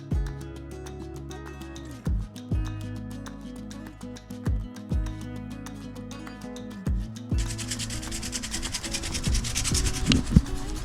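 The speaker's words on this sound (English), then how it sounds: "I've got the sander" A power sander grinds steadily against a yacht hull, a rough rubbing drone that swells and dips with each pass and turns harsher and louder toward the end.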